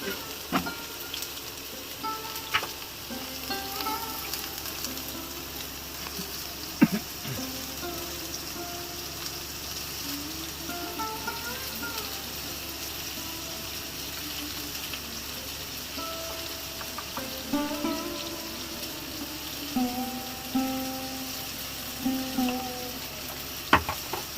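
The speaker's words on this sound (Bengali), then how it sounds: "হলুদ গুঁড়ো লঙ্কা গুঁড়ো হলুদ গুঁড়ো নুন সাদা তিল পোস্ত কাঁচা লঙ্কা আর জিরে দিয়ে আলুটাকে ভাজা হবে" Potatoes fry in a pan with turmeric, chilli powder, salt, white sesame, poppy seeds, green chillies and cumin, giving a low, steady sizzle with occasional stirring knocks throughout.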